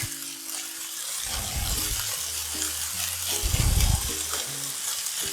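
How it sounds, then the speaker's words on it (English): Food for a Christmas breakfast frying in a hot pan, a steady sizzle with bursts of louder crackle as pieces are stirred and flipped, close and alone with no talk. "You gotta have that heat up a bit to get them to brown up."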